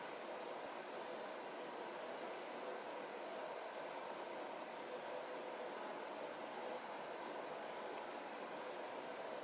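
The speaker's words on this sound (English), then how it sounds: "when countdown ends, it will alter beep sound 3 times per second" Thin, high electronic beeps from a Naviforce NF9136 digital watch countdown alarm start partway through, about one per second for six beeps, quiet over a steady background hiss.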